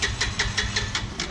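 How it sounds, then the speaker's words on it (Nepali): A motorcycle engine runs right after a cold start, a close, steady, throbbing idle with evenly spaced pulses about five times per second and no voices. "बाइक स्टार्ट भयो"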